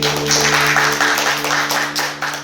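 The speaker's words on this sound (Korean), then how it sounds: "박수 한번 주시죠" An audience claps and applauds briefly, a burst of clapping that swells and then fades away.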